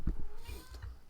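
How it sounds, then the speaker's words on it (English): A pet cat meows indoors, two or three short close meows in quick succession, fairly loud and alone with no talk. "My cat wandered in here and she's meowing"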